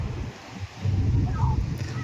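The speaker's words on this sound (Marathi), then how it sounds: "कुंदापूरला आलोय समुद्रावर." Sea waves wash onto a busy beach at Kundapur on a hot afternoon, a steady low surf roar mixed with gusty wind buffeting the microphone.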